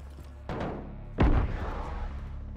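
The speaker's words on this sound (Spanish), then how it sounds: "Le pegué dos tiros al vato." Two sharp bursts, the second a heavy booming blast, gunshots in Call of Duty: Modern Warfare over a faint steady background hum.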